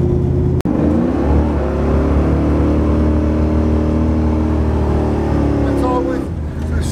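A 1970 Chevy Nova Yenko/SC accelerating hard through second gear, a loud, steady engine roar with rising pitch heard from inside the car, ending in a slight drop as the gear runs out.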